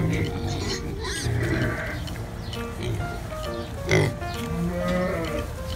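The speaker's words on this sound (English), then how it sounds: "These piglets are curious and talkative, with grunts, oinks, and squeals." Baby pigs on a farm grunting, oinking and squealing close by, a busy overlapping chorus of short calls and higher squeals that continues without a break.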